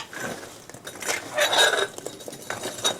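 A metal rake scrapes and clinks through burning lump charcoal and logs beneath a grill grate, giving a few close, uneven metallic scrapes and rattles.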